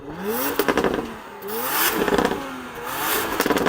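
A Porsche Macan GTS engine is revved three times in quick succession, each rev a rising, throaty surge that falls back, loud and close.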